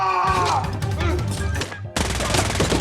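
Gunfire in an action film scene arrives as dense bursts of rapid shots, loud and close, cutting off briefly before a fresh volley, mixed with clattering and a faint voice.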